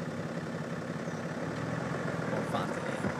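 A new BMW 7 Series engine idling with a low, constant rumble, moderately loud and unchanging across the whole stretch.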